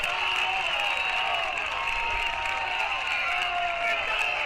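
A Buckeyes crowd at a Big Ten tennis match cheers in a steady, dense roar that holds evenly throughout, with a commentator talking over it.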